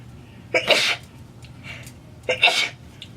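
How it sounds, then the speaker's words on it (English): Two sharp sneezes about two seconds apart, close and fairly loud, with quiet breathing in between. "I'm about to sneeze."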